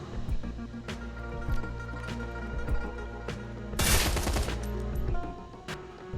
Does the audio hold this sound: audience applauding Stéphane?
no